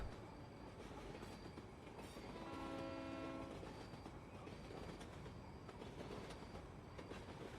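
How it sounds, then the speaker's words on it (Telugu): A 12 o'clock local train rumbles past steadily, with a sustained horn-like tone sounding briefly in the middle over the continuous rolling noise. "అది ఆ ట్రైన్ వెళ్తుంది కదా, అది 12 గంటల లోకల్"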